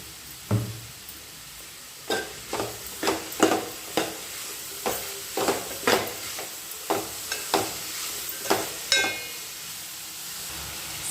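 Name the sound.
ivy gourd (dondakaya) frying in oil and being stirred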